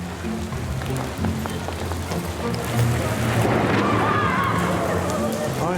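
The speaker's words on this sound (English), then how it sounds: "Oh, it started raining?" Rain falls outside as a steady broadband hiss that swells partway through, under a faint background hum, with people talking nearby.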